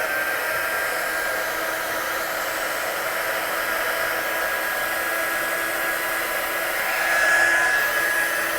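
A hair dryer blows steadily, close and loud, drying a layer of watercolour paint. It makes an even whooshing hiss with a constant motor whine that surges slightly near the end.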